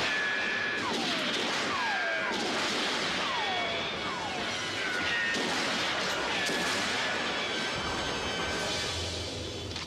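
Gunfire fills a TV action scene, with repeated shots and ricochet-like whines over a dense, noisy background. It plays fairly faintly in the mix.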